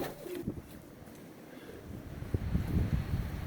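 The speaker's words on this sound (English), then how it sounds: "the wind started kicking up really bad and it's blowing a lot of stuff all over the place" Strong wind gusts outdoors around a backyard pigeon loft and yard, buffeting the microphone in low rumbling bursts that build toward the end, with a pigeon cooing faintly underneath.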